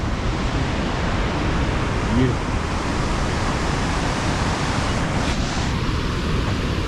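Steady broadband rush of a waterfall pouring onto a silty, glacier-fed beach in Alaska, constant and fairly loud throughout, with a single brief spoken word near the middle.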